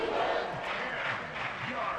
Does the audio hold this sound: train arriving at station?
no